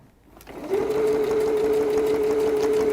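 A sewing machine stitches quilt blocks, starting from near silence and then settling into a steady, close whirring hum with a rapid needle rhythm that runs continuously to the end.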